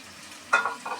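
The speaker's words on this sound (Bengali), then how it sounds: "এখন আমি করলাগুলো দিয়ে দিব কুচি করে কেটে রেখেছিলাম সেগুলো দিয়ে দিব" Chopped bitter gourd (karela) drops into a pan with onions and bursts into a brief sizzle, two quick surges of frying noise close up over a quiet background.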